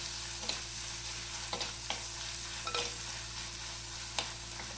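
Ingredients for a mackerel chilli curry sizzle steadily in a pan, with a spoon stirring and scraping at intervals, six or seven distinct strokes close by and no talk.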